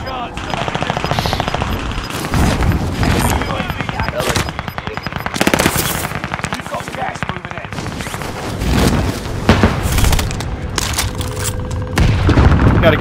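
Video game gunfire crackles continuously as rapid automatic bursts and heavy booms pile up, loud and dense throughout, with players talking over the shooting.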